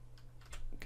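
Computer keyboard keys pressed in quick shortcut combinations while sculpting jewellery in ZBrush, a few soft close clicks and taps building to a louder cluster near the end.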